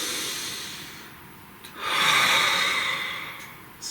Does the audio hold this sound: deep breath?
yes